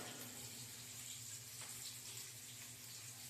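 Tap water runs steadily into a sink while cauliflower florets are rinsed, a continuous even splashing flow with no voices over it.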